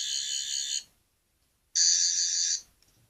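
A 12th Doctor sonic screwdriver toy gives two short bursts of a high, buzzing electronic tone, each under a second long, separated by a brief silence and heard up close.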